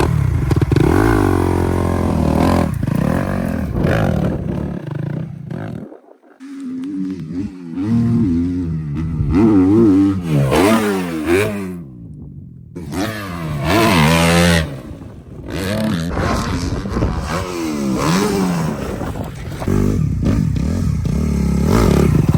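Motocross motorcycle engine with no starter, loud and close, revving and rising through gears with a throaty rasp, easing off and dropping out briefly before roaring again.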